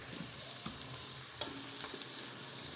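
Faint, steady sizzling of onions browning in a pan with a few soft clicks and scrapes, no voices.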